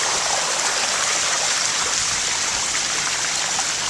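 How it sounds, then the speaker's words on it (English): Bicycle wheels churning through calf-deep flood water on a street during a tropical storm, a steady close rushing wash of water with no pauses and no voices. "I'm riding through water right here."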